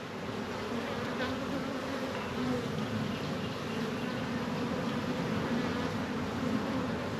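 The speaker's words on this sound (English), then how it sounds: "There's a bee coming out right now." Honey bees in a home hive at the start of a major flow make a dense, steady buzzing drone, close and continuous throughout with no talk.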